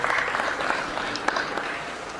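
Applause from the audience at a ceremony honoring top baccalaureate graduates in Bargny, steady dense clapping with a murmuring crowd, moderately loud and continuous.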